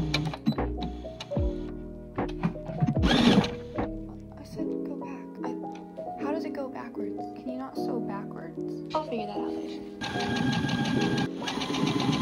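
A Baby Lock Verve sewing and embroidery machine runs in bursts as it stitches straight lines, its motor whirring and clattering up close, stopping and starting, with a voice talking in between.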